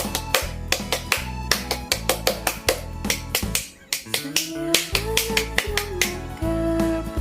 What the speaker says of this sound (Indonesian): Kita akan melakukan 2 kali tepuk pramuka